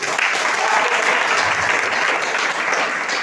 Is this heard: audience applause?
yes